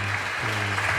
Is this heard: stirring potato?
no